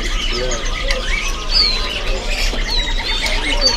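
Caged grey drongos (sri gunting abu) at Pramuka bird market in Jakarta, heard as sharp whistled chirps and thin squeaky calls rising over a steady, loud market hum, with overlapping bird voices from nearby cages.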